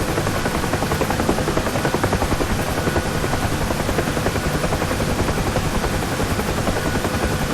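A UH-1 Huey helicopter in the DCS World flight simulator slows toward a hover near a landing point: steady, loud rotor thump and turbine roar fill the whole stretch without a break, with no talking.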